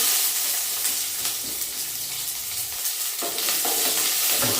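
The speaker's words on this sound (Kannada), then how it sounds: "ಸ್ವಲ್ಪ ಎಣ್ಣೆ ಬಿಸಿಯಾಗಿದ್ದ ಕೂಡಲೇ ಕಟ್ ಮಾಡಿ ಇಟ್ಕೊಂಡಿರೋಂಥ ಈರುಳ್ಳಿನ ಹಾಕ್ಕೊಳ್ತೀನಿ" Chopped onions fry in hot oil in a kadai, giving a steady loud sizzle that runs the whole time with a few stirring scrapes and no voices.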